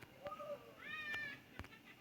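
A cat gives a few short, faint meows, the last one rising, amid quiet room noise and a couple of soft knocks.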